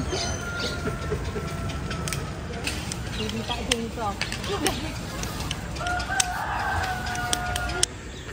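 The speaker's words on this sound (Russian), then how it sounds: "Крайне забавные существа, петухи. Они такие прям большие, забавные и громкие." Roosters at a zoo in Kuala Lumpur crowing, with several crows rising out of a busy outdoor background of steady noise and chatter. The crows are moderately loud and repeat through the clip, mixed with clucking and distant voices.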